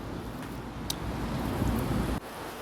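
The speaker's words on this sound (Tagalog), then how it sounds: "Ulan na naman." Rain falls beside a service road in Valenzuela, a steady close hiss that holds evenly for about two seconds, then drops off sharply and continues more softly.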